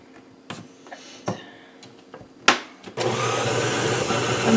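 KitchenAid stand mixer switching on and running steadily at high speed mixing kolache dough, a loud continuous whir after a few clicks and knocks, with no talk over it.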